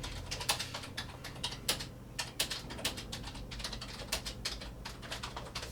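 Rapid, uneven clacking of keys on an Amiga 600 laptop keyboard, close and crisp over a low steady hum, with no talk.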